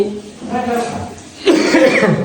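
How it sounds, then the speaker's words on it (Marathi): A sick man coughs a couple of times close by, with a short vocal sound before the louder cough burst. "सॉरी मला खोकला येतोय कारण मी आजारी आहे."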